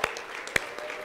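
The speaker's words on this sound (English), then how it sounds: "Let's give the Lord a hand clap of praise this morning." Church congregation clapping hands in praise during a morning service: a few distinct, sharp claps stand out close by over a softer, sparse patter of clapping from the room.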